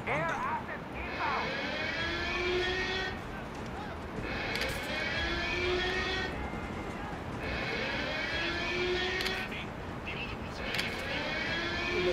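Helicopter flying overhead in a video game, a continuous droning rotor and engine wash with rising and falling sweeps as it passes, loud and close, while people talk over it.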